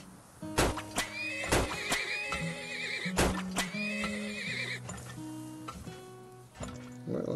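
Horses in the game Almost Perfect in Turmoil neigh and whinny several times, loud, layered cries over a busy game soundtrack, with faint hoof clip-clop in places.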